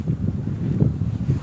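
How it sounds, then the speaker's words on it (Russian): Wind buffets a microphone outdoors in cold weather, a steady low rumbling gust that stays close and fairly loud throughout, with no talking. "А то ветер дует, мне холодно, когда дует ветер."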